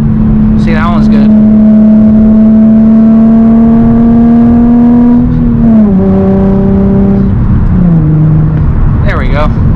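Nissan 350Z engine revving hard during street driving, its tone climbing steadily then dropping through shifts, loud and close with tyre and wind noise around it.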